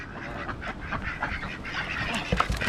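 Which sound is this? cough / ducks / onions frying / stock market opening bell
ducks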